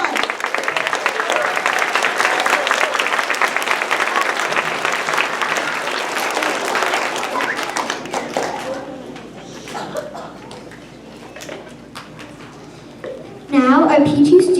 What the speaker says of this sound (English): All of our P1 students, one more big round of applause.